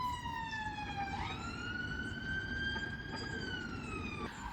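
Emergency siren wailing steadily outdoors, heard through an open window, rising and falling in pitch over a constant low street rumble.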